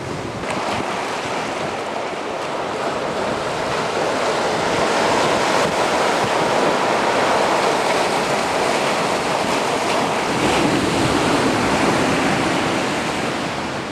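Ocean surf rolls steadily onto a secluded tropical beach in Nicaragua where jungle meets the sea, a loud continuous wash of breaking waves with some wind noise throughout, no voices.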